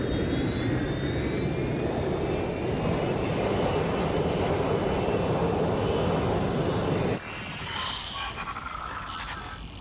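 A plane flies in the Watch Dogs Legion video game, giving a steady, loud jet drone with a thin rising whine. The drone drops sharply in level near the end and carries on more quietly.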